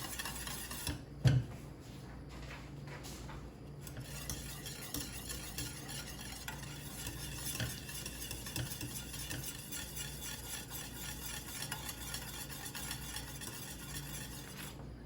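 Banana cream pie filling cooks in a pan, giving a steady low bubbling sizzle with occasional utensil scrapes and clinks as it is stirred, one sharp knock near the start.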